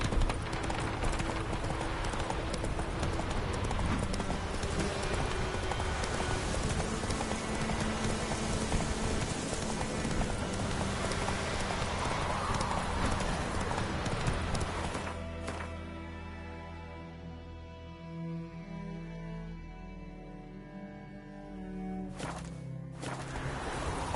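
A horse's hooves clip-clop at a steady gallop in the video game The Witcher 3, loud and continuous, with rain-like patter blending in before easing to a quieter trot near the end.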